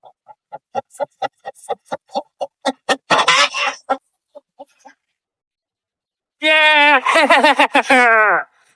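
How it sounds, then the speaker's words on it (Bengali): A series of short, rhythmic clucks builds into a burst of squawking, then after a quiet gap a chicken gives a loud, drawn-out cackle. "ও, মুরগিটাকে বেশ ভালো দেখতে কিন্তু।"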